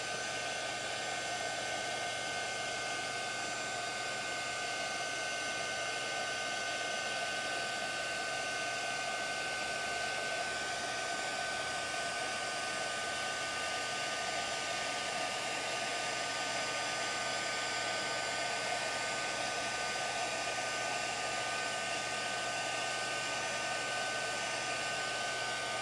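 Heat tool blowing a steady, unbroken rush of hot air over metallic embossing powder during a stamping craft, droning evenly throughout with no pauses and no talking.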